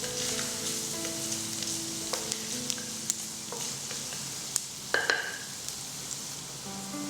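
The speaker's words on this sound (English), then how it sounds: "Fry the garlic for about 30 seconds." Garlic fries in two tablespoons of oil in a clay pot over medium heat, making a dense, continuous sizzle with scattered small pops and a few stirring clicks.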